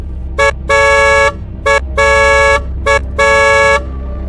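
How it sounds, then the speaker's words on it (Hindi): A bus horn honks on a road in three paired blasts, each a short toot followed by a longer tone, loud and evenly spaced over a low background rumble. "उसे दूर से सड़क पर एक बस के हॉर्न की आवाज सुनाई दी।"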